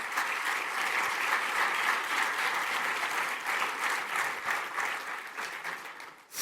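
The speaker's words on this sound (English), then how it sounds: "You can clap for that." An audience at a SaaS conference claps, a steady mid-distance patter of many hands that holds for several seconds and then thins out toward the end.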